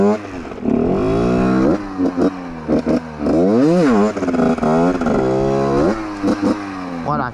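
Motorcycle engine blipping and revving in repeated bursts while the bike is held up on its back wheel, with throttle pulses and braking, loud and close with rising and falling pitch sweeps.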